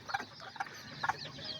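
A hen with her newly hatched white and black chicks gives soft, short clucks in a few quiet bursts, close and faint against a calm background.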